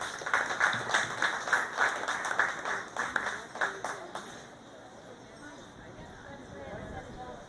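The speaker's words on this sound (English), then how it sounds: "If we can give her a hand of applause." A crowd at a county fair pet show gives applause, a patter of clapping for several seconds that tapers off into quiet room ambience, with a voice over a loudspeaker heard briefly.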